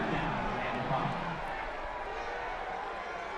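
A football stadium crowd at a college game between Georgia Southern and South Alabama roars in a broad, sustained wash of noise that fades slightly, with a commentator's voice over it.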